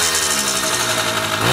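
A 1974 Honda MR50 two-stroke engine revs up and down during break-in heat cycling, a loud, buzzing rasp close by with wavering pitch that climbs again at the end.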